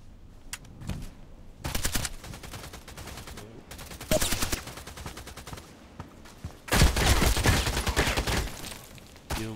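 The SVU-AS sniper rifle fires in bursts in the Contract Wars video game. Loud, fast volleys come in several separate clusters with short pauses between them, and the heaviest burst comes near the end.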